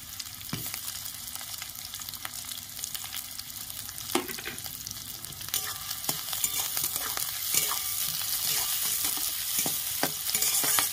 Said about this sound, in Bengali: কেটে রাখা ক্যাপসিকাম দিয়ে দিচ্ছি,